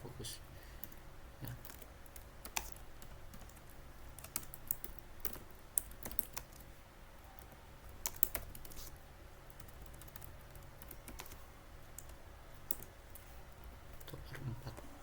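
Quiet, irregular clicking of computer keyboard keys being typed during a shell programming session, soft patter with a few louder keystrokes over a faint background hum.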